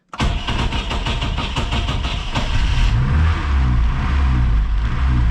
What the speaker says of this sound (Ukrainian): Зараз включаємо запалення, рахуємо до 5 і заводимо.